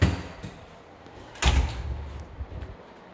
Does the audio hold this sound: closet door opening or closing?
yes